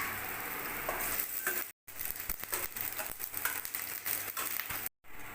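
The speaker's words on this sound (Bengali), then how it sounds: "কড়াইতে তেল দিয়ে দিয়েছি। এবার পেঁয়াজ কাটাটা দিয়ে দেবো।" Chopped onions fry in hot oil in a kadai, giving a steady, fairly quiet crackling sizzle with small pops and brief drop-outs, with no talk over it.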